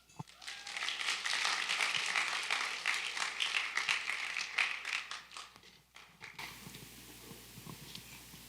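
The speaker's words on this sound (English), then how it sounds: "give her a round of applause" A room full of listeners applauds to welcome a young woman giving a mission trip testimony, a dense, steady patter of many hands that runs for about six seconds and then fades out.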